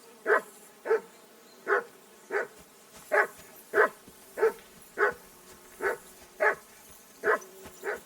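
A dog barks repeatedly in Kingdom Come: Deliverance 2, a dozen evenly spaced, mid-loud barks at a steady rhythm with no talk over them.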